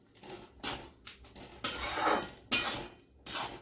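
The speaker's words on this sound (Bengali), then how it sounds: "এইগুলো দিয়েই জাস্ট নাড়বেন একটুখানি।" Spices such as Kashmiri red chilli powder and cumin powder being stirred in a pan for Indian olive chutney, heard as a few separate clanking, scraping bursts of metal utensil against cookware.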